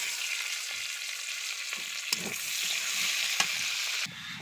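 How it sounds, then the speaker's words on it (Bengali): Chopped onions with spices frying in hot oil, a loud steady sizzle close up with occasional stirring scrapes and a brief knock or two, continuing without pause. "এবারে এখানে এই তেলের ভিতরে দিয়ে দিব মশলা। দিয়ে দিব পেঁয়াজ কুচি।"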